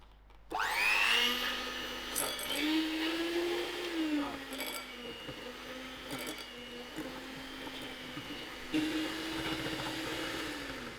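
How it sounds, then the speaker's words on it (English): An electric hand mixer whirs steadily while creaming eggless peanut butter cookie dough in a bowl, a continuous motor hum that dips and rises slightly in pitch as the beaters work, with no one speaking. "Now I'm going to use my electric mixer to cream all this together."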